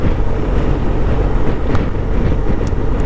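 A BMW R1250GS Adventure motorcycle being ridden on a road, with a steady low engine drone and continuous rushing wind buffeting the microphone, loud and unbroken throughout.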